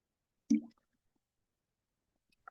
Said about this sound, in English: let me get a sip of water